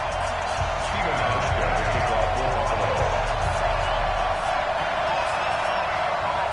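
Stadium crowd noise in an NFL football video game, a dense, loud, steady roar of many voices sustained without a break, with commentary voices mixed in.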